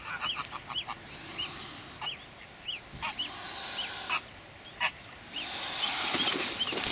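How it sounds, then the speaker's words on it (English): Geese with young chicks honk repeatedly at a lagoon, a series of nasal calls in short bursts over a soft outdoor background of wind and water, with brief gaps between volleys and no talking. "These geese have very young chicks."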